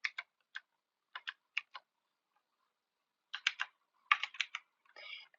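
Scattered keystrokes on a computer keyboard come in short bursts with pauses between them, close and fairly quiet.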